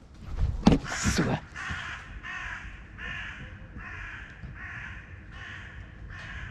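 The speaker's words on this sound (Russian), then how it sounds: "Это ворона" A crow caws about eight times in a steady rhythm at moderate distance outdoors, following a brief burst of voices and knocking at the start.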